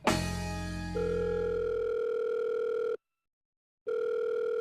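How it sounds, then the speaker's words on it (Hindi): A phone ringback tone plays as an outgoing call goes unanswered: steady electronic purring tones repeating in a regular cycle, with a clear silent gap between rings, loud and close with no talking. "फोन क्यों नहीं उठा रहा है अब?"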